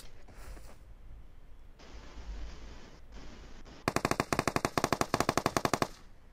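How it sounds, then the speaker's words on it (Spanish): Rapid bursts of automatic gunfire in the video game PUBG Mobile crackle loudly in a fast, even rhythm after a stretch of engine-like rumbling, with no voices present. "¿de dónde vinieron esos tiros?"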